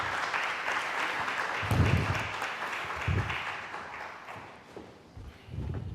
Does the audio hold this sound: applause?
yes